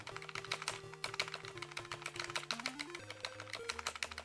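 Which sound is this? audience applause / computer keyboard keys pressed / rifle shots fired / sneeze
computer keyboard keys pressed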